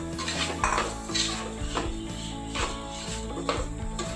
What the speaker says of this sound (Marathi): आता हे जे शेव्यो भाजून घेतलेल्यो त्यो आमी हे बाउलान घालून मिक्स करून घेवया।